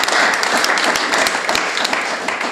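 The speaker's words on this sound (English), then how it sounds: "Can we give him a hand of applause?" Dense audience applause at a sports pledge ceremony for a Rivers United football club patron, steady clapping throughout at close range with no pauses.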